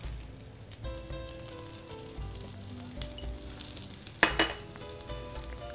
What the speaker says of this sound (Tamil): இதோடு வந்து கொஞ்சம் எண்ணெய் விட்டு சுட்டுக்கலாம்